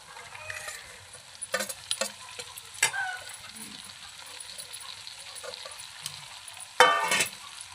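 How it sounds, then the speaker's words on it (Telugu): Chopped cabbage dropped into a hot frying pan, giving a soft sizzle broken by several sharp bursts of crackling and clattering stirring, the loudest burst near the end. "ఇప్పుడు నేను కట్ చేసి పెట్టుకున్న క్యాబేజీ వేస్తున్నా."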